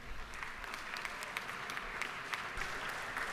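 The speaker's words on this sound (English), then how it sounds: "If we can give them a round of applause and welcome to the state capitol." Members of the Georgia House of Representatives in the state capitol chamber give a round of applause to welcome guests in the gallery, with a distant, steady clatter of many hands echoing in the large room.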